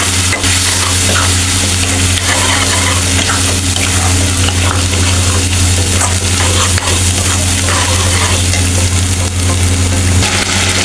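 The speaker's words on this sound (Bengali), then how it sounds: "আমি এখন সব দিয়ে ভালো করে কষাইয়ে নেব।" Duck meat with salt, coriander powder and black pepper stir-fried in a pan, a steady loud sizzle with scraping stirring strokes running throughout, no talk.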